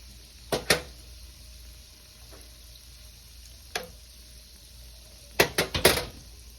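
Canned biscuit doughnuts and doughnut holes fry in hot oil with a low steady bubbling hiss, broken by a few sharp spatters and a quick cluster of utensil clinks near the end.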